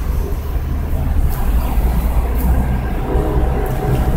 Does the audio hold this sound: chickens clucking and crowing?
no